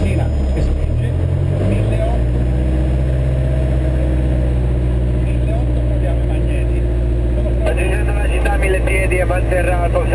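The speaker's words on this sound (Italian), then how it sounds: "intanto facciamo un po' di prove motore" A light aircraft engine holds a steady 1500 rpm during a pre-flight run-up test, producing a loud, unbroken droning hum with a constant pitch from start to finish.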